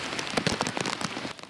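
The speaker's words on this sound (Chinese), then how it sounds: "大雨落袂停" Heavy rain falls hard on a surface in a dense, continuous patter of close raindrops during a downpour in Nantou, Taiwan.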